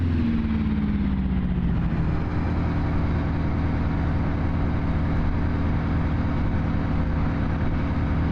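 Detroit two-stroke diesel truck engine in American Truck Simulator, a steady low, droning rumble running continuously near and loud, with a brief falling tone early on and no talk.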